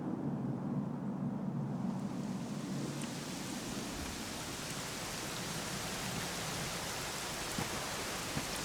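Rain falls in Dragon Quest XI S as a steady, soft hiss of drops, a constant wash with no voices.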